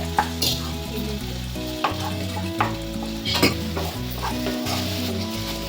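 Ingredients for a white sauce pasta fry in a pan with a loud continuous sizzle, while a spoon scrapes and stirs in repeated strokes close by.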